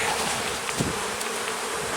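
Honey bees buzz in a steady, dense drone while a new queen is being marked, close and continuous with no talking.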